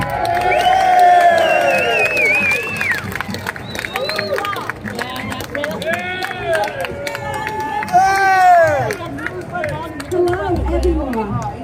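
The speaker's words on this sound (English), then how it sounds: "Please give a round of applause for the Deputy Leader of Britain First, Ashley Simon." A crowd at a Britain First rally on a St George's march in Manchester cheers and whoops, with raised shouting voices and scattered clapping rising and falling throughout.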